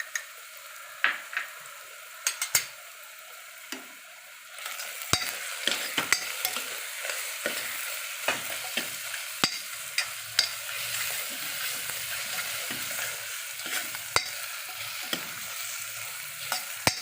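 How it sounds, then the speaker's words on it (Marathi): Onion frying in a pan with ginger garlic paste, a continuous sizzle broken by scattered clicks and scrapes of a spoon stirring against the pan, louder and denser in the second half. "कांदा परतत असताना मी त्यातच आलं लसूण पेस्ट टाकून घेते"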